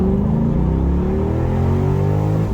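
A C6 Corvette engine revs hard and climbs steadily in pitch under wide-open throttle, loud and continuous, with no voices.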